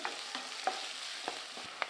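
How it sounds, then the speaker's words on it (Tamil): Onions sizzle steadily as they sauté in hot oil, with a few sharp clicks of a spoon stirring the pan. "வெங்காயம் நல்லா வதங்கி வரட்டும்"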